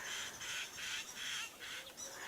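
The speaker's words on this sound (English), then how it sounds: "These birds are shouting." Several birds in an African tree, including hornbills, starlings and fork-tailed drongos, give repeated harsh alarm calls in quick overlapping bursts, fairly faint and distant, with no one speaking.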